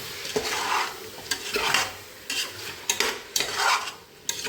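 Onions, cinnamon, cloves and fennel for chicken biryani are stirred in a pot, making loud, close scraping strokes in an uneven rhythm over a light sizzle, with no voices.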